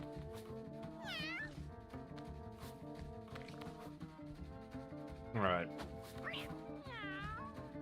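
Several kittens and cats meow repeatedly in a cat-breeding video game, faint and layered over steady game music, with brief speech.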